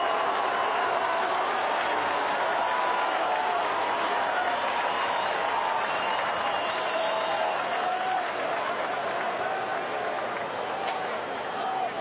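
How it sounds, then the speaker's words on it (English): Giants fans at a stadium during the final quarter of an AFL elimination final against Sydney. Their crowd noise holds as a dense, continuous wash of applause and roar, with a commentator talking over it. "Giants fans, give him a big round of applause"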